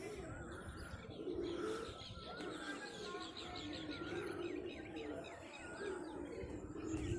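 Soft pigeon coos and chirps drift in the background of an outdoor scene, while a person talks nearby over a constant low hum.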